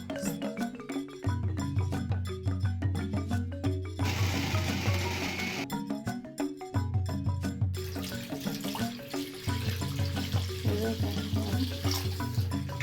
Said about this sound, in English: So I'll add small water, just small quantity of water.